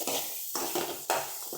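Chillies and other ingredients for chutney fry in a pan while a spoon stirs them, producing steady sizzling with scraping strokes against the pan.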